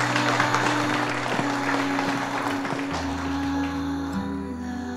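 An audience applauds to welcome a speaker onto a stage, with steady, dense clapping and soft music tones underneath that fade slightly toward the end.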